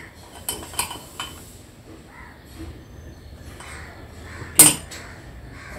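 A metal spanner clinks while a nut is tightened on a gym dumbbell plate, with a few light metallic taps and one sharper ring near the end against a quiet room.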